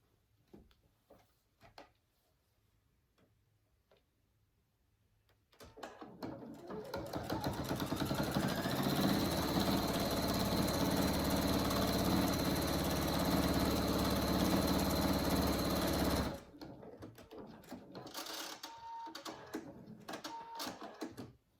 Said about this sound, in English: raise up your top square and pin in place and sew that together